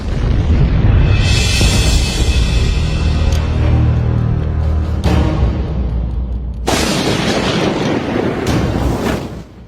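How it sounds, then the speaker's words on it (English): A Russian TOS-1 thermobaric rocket launcher firing during the war in Ukraine, heard as a sustained, loud roar of launches and blasts with sharp bursts near the start, middle and later on, dense and continuous without pause. "Russia's TOS-1 video takes massive fire in the Ukraine war."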